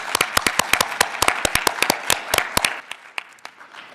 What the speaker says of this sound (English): A little applause for her, who's not with us here today